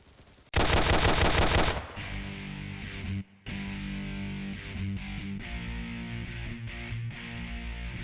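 Rapid automatic-sounding gunfire from an M1911 pistol in the survival video game Dread: a loud dense burst of shots for about a second, then a steady stream of loud game sound effects with brief gaps.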